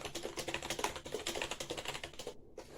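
Fast, rhythmic clatter of keys on a XINMENG 61-key RGB gaming keyboard, a compact 60% layout, with dense, close keystrokes pattering continuously until a brief pause near the end.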